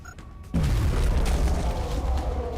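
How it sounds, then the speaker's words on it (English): A grenade explodes in XCOM: Enemy Within, a sudden loud boom after a brief quiet moment, then a long rumbling tail that fades slowly. "Throwing grenade."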